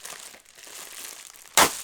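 Plastic crinkles softly for a moment, then a single sharp, loud rip as the bag tears open.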